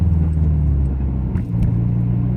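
A car with an aftermarket exhaust pulls at low revs, a deep steady engine rumble that is close and loud inside the cabin, briefly dipping as if shifting.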